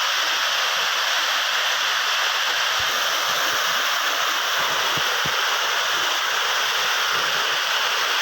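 Tusharagiri waterfall pours over rock in a continuous, dense roar of rushing water, steady and enveloping from start to finish with no voices.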